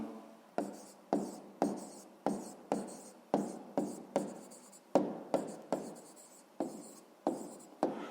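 Chalk or pen strokes during a sixth-grade maths lesson, a series of sharp taps each trailing into a short scratch, repeating in an uneven rhythm close by, with no voices.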